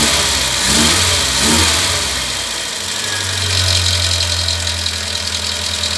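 Carbureted car engine running steadily near the listener, a loud low hum with slight rises and falls in revs, alone with no talk over it.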